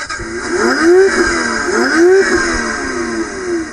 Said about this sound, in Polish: Załączamy kluczyk i patrzcie, co się dzieje. Załączam kluczyk.